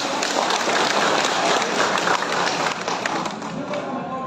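Sustained audience clapping at an official regency ceremony in Badung, Bali, a thick roomful of applause that stays full at first, then thins and fades toward the end as a voice begins to come through.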